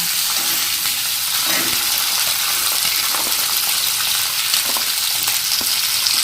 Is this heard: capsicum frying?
yes